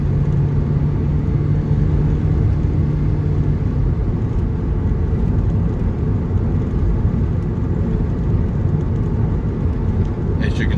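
Car driving the road from Waitara to New Plymouth, a loud, steady engine and tyre rumble heard from inside the cabin, unbroken for the whole stretch.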